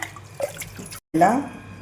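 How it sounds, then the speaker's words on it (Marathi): Water splashes and trickles briefly as lentils are rinsed, with a short pause before a louder burst of pouring and swishing, close by. "स्वच्छ दोन तीन पाण्याने धुवून घ्यायची"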